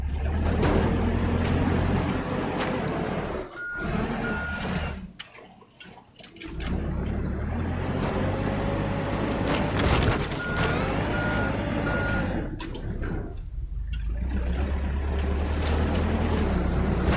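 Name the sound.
dump truck pushed toward water in video game Teardown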